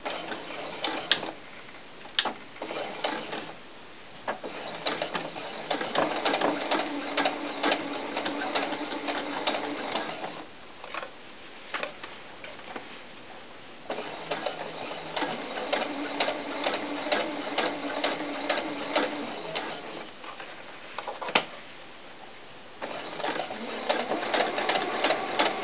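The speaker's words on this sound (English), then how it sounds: "So let's go ahead and start sewing here." A sewing machine stitches a doll skirt seam in several bursts of rapid, even mechanical ticking, pausing briefly between runs; close and moderately loud with no talking.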